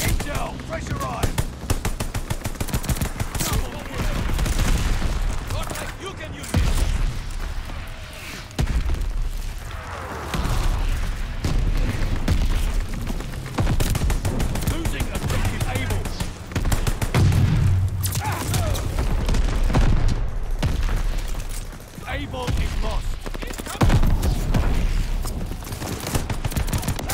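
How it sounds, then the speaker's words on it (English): Bombing run explosions and gunfire from the video game Call of Duty Vanguard, with continuous loud rattling automatic fire, heavy booms and rumbling blasts filling the whole stretch, and voices calling out over the battle. "Friendly bombing run on the way."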